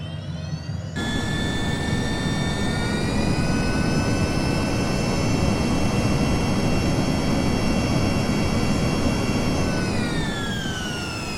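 Jet aircraft taking off from Ronald Reagan National Airport at takeoff power, a loud steady engine roar with a rising high whine that holds nearly constant, then shifts slightly near the end, close and alone.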